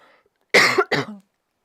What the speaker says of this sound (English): Just going to cough, sorry.